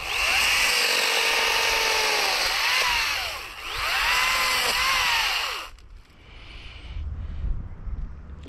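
A battery-powered chainsaw runs loud and close with a steady high whine, revving up and down a few times before cutting off abruptly, then leaving quiet low rumbling and handling noise.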